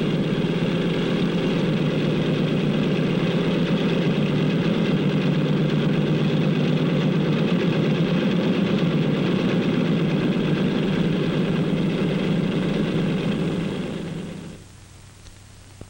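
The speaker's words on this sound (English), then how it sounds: "The plane starts over to the runway." An airliner's engines drone steadily as the plane taxis toward the runway at an airport, a loud constant rumble that fades out near the end.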